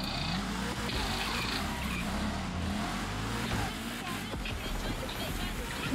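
A race car engine drones and revs steadily through a drift in The Crew Motorfest gymkhana, with tire noise, while a person talks over it.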